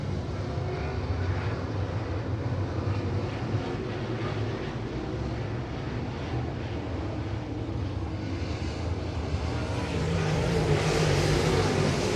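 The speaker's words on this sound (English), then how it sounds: "There's the green flag. We get back to racing action." Late model race cars at Winston Speedway roar steadily as a pack after the green flag, a continuous distant engine drone with a rising surge near the end, no clear talking.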